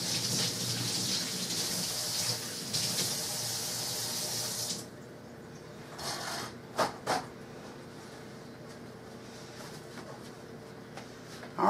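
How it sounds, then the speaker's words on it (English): Tap water runs steadily into a kitchen sink while hands are washed during baked cauliflower cooking, a loud continuous rush for several seconds that cuts off, leaving a quieter room with a few faint clunks. "Let me wash my hands off."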